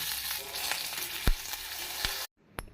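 Mustard seeds, dried chilies and curry leaves crackle and spit in hot oil as a tempering for dal. A dense sizzle runs with a few sharp pops, then cuts off abruptly, leaving near-silence and one last faint crackle.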